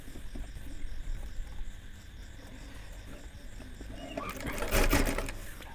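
A sewing machine stitches fabric for a child's panjabi, its steady mechanical whir running throughout and swelling into a louder, busier burst near the end.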